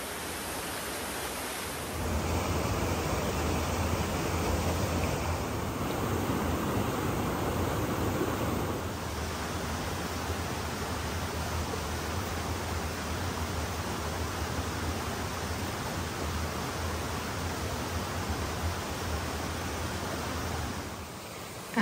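Steady rushing water from a waterfall at Abol Falls, Baxter State Park, a broad hiss like falling water, constant and moderately distant after a brief quiet start, no voices.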